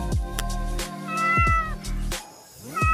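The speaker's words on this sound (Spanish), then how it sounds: "lo más lindo del caso es que mi gatita Niles está aquí" A pet kitten meows several times indoors in a living room, with close, clear, drawn-out cries spaced through the moment and no talking over them.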